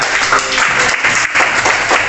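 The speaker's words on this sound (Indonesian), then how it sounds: "tepuk tangan untuk semuanya" A sixth-grade class bursts into dense, steady applause for a couple of seconds, many hands clapping together up close with a brief dip midway.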